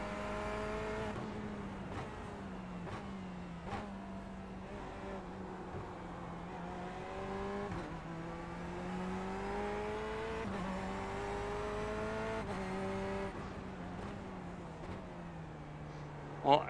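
A race car engine on a track, likely in sim racing, revs steadily with rising pitch and sharp gear shifts, held close and constant throughout, with faint radio-style talk underneath.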